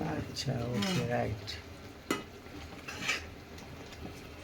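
Ragi flour mixed into a pot of hot liquid and stirred to remove lumps, with a spoon clinking and scraping against the pot in a few distinct knocks. A brief voice is heard near the start.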